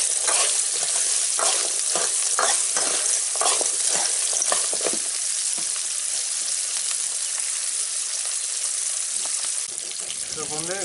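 Dried turkey berries, onion and garlic fry in hot oil for a Tamil vatha kuzhambu, a steady bright sizzle running throughout with repeated scraping stirs, fairly close and loud, no talking.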